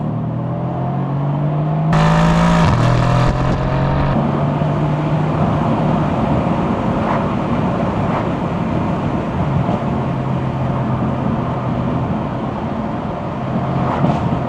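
A Mercedes-AMG C63S V8, a converted C43 with rear-wheel drive, revs hard under acceleration with a loud, rising engine note, a few sharp pops and bangs on the exhaust, then steady droning as it drives on.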